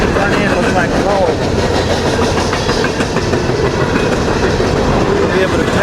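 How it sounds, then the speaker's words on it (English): A freight train hauling coal cars passes close by with a loud, continuous rumble and rhythmic clatter of wheels on rails that stays steady throughout. "Must be a combined train because the front end looks like coal."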